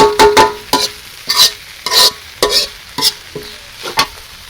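Cooked rice tipped into a frying pan and stirred in a home kitchen, a series of sharp scraping and scooping strokes with brief sizzle bursts, close and fairly loud, with no talking.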